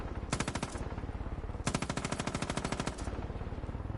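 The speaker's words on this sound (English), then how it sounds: "using this machine gun is gonna be tough" Machine gun fire in the Far Cry 5 video game, heard as two long, loud bursts of rapid rhythmic shots separated by a short pause, with continuous background game noise and no talking.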